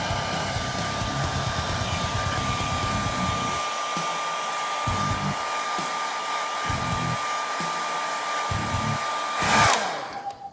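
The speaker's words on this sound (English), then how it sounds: "I'm going to put the white trusty hairdryer on the ground" A hair dryer blows with a steady whine and a loud whoosh, its hum rising sharply near the end.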